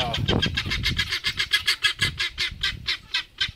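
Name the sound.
guinea fowl calling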